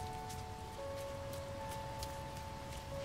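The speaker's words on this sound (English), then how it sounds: "Does it always rain on this acid rain planet?" Steady rain pours on a swampy acid-rain planet in the No Man's Sky video game, a dense even hiss of drops with a few faint sustained electronic tones beneath, no talking.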